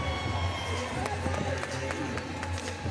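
At the 2024 ACC gymnastics championship, the arena crowd keeps up a continuous roar and cheer beneath a commentator's voice, with scattered claps rising through the noise.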